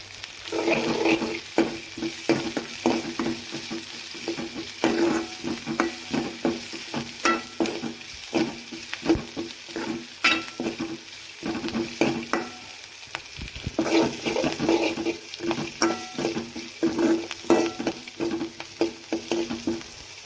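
Onion, green chilli, ginger and curry leaves sautéing in a pan, with continuous close sizzling and a rapid, busy rhythm of spatula scrapes and clicks against the pan, no voices.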